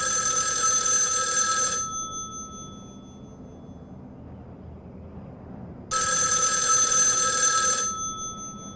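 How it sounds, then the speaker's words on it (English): An old landline telephone rings in the 1974 horror film Black Christmas: a loud, bright ring, a silent pause of about four seconds, then a second ring. "The phone rings."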